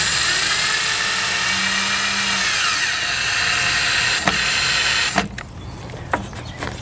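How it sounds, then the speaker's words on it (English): A power drill drives screws into the side of a wooden stake on a raised garden bed, a close, high motor whine that runs for several seconds, then stops, followed by a few sharp knocks. "I'm actually drilling into the side of the stake"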